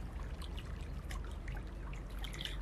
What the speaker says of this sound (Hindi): पास में बहती हुई पानी की धार की आवाज सुनाई दे रही है